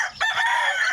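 A native chicken crows loudly and close by in a short burst, its drawn-out call carrying a few clucking notes.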